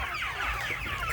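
Pet chickens clucking, a short burst of quick, close clucks over a low background hum.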